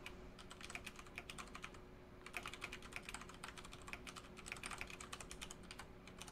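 Rapid typing on a computer keyboard in bursts of clattering keystrokes with short pauses, close and steady with no talking.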